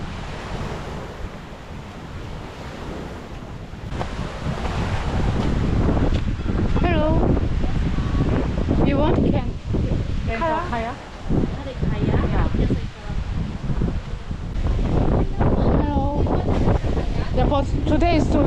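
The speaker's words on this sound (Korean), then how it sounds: "Yeah, but it's windy" Steady wind roars across a beach with crashing surf underneath, continuous and loud throughout, with people talking over it.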